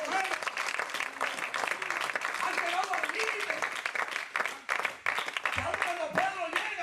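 A church congregation claps and applauds loudly and continuously during a sermon, with a preacher's voice speaking over the clapping.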